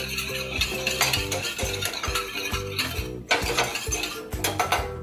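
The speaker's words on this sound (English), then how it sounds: "Whisk it together." A whisk scrapes and clinks rhythmically against a bowl while warm breakfast cereal is stirred with stevia and vanilla, close and brisk with repeated metallic strokes and no talking.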